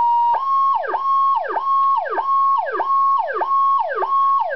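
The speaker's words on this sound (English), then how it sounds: "Back to your high-low sound, and then the original power call tone" Powercall DX5 electronic siren sounding its original power call tone: a steady high wail that holds, then plunges in a quick downward sweep, repeating about seven times in a loud, even cycle with no talking.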